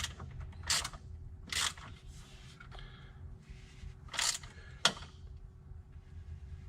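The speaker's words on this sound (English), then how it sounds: "you can take your ratchet and your wrench and start to tighten that up." Ratchet tightening a nut on an oil catch can bracket on a Chevrolet Corvette C8, giving a few quiet, close clicking bursts with sharp metallic ticks spaced across a soft background hum.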